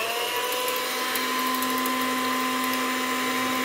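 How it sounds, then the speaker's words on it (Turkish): An electric hand mixer with adjustable speed whirs steadily while whisking a chocolate ice cream mixture, a constant high-pitched motor whine with no breaks, close and loud, without talk. "Şimdi bunu kullanıyorum, çırpıcıyı. Bunun çünkü hızını ayarlayabiliyorum."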